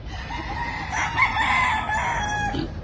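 Several roosters and young stags, fighting cocks, crowing together in a yard, overlapping calls rising and falling across the clip, fairly close and loud over a steady background.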